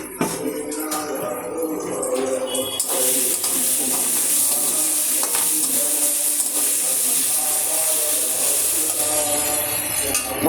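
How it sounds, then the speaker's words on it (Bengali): Meat being sautéed with spice masala and whole garlic in a pan, a steady loud hiss and sizzle that swells after the first few seconds and holds, with faint scraping of stirring underneath. "মশলা কষানোটা দেখি"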